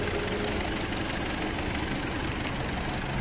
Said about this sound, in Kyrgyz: мотор ровно иштеп турат.